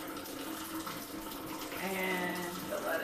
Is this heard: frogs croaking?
no